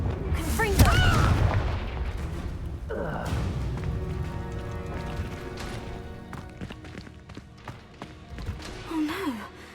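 A Confringo explosive spell blast in the Hogwarts Legacy video game: a heavy thudding boom near the start and another burst midway, amid rumbling battle effects with a voice and vocal sounds over them.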